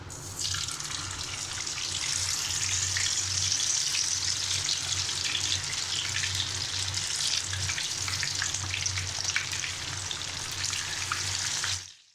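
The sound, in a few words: frying in hot oil for Sudanese dish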